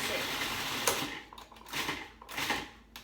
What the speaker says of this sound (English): what's amazing about the food processor is super fast